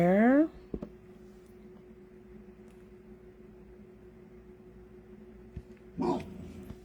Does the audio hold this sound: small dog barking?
yes